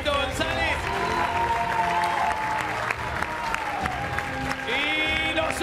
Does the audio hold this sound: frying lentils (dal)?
no